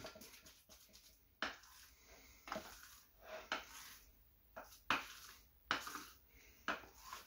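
Wild boar country terrine mixture is scooped and pressed into baking dishes, giving soft wet thuds, scrapes and occasional clinks of spoon against dish in an irregular rhythm, fairly quiet with no talk.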